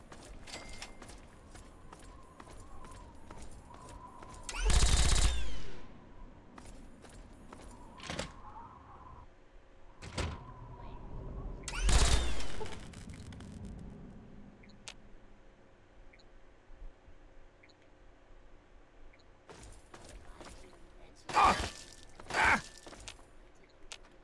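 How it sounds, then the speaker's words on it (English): Explosions and gunfire in the Fallout 3 video game: a few loud, broad booms spaced several seconds apart, with sharper cracking shots clustered near the end over a low game backdrop. "Explosions abound."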